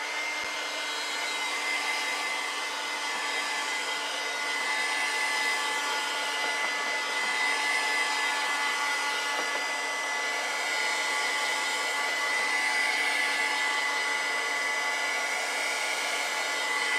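A hair dryer blows steadily to dry acrylic paint on a mermaid painting, a loud, continuous whirring rush that holds unbroken for the whole stretch with no voices.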